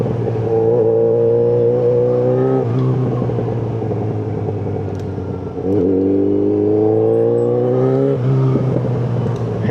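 A loud Yamaha XJ6N motorcycle engine revs continuously nearby, its pitch climbing in two long surges with a brief dip between them, droning with no talking.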